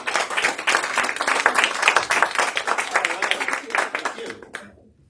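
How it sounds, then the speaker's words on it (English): An audience at a presentation breaks into brisk, dense applause that holds strong for several seconds before tapering off and stopping near the end. "All right, let's give Toyin a round of applause."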